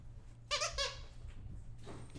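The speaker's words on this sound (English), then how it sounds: "he's gonna squeak that dino in here now." A dog squeaking a squeaky dinosaur toy indoors, giving two or three quick, fairly faint rubbery squeaks over a steady low hum, then a softer rustle.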